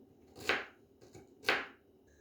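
Two crisp knife strikes chopping onion on a board for Azerbaijani beef kofta, evenly spaced about a second apart, close and fairly quiet with no talk.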